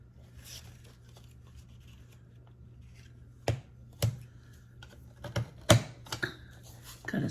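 Scissors cutting a square out of leftover paper, a few sharp snips and crisp rustles of paper coming in short irregular bursts near the end, close and quiet over a low steady hum, no speech.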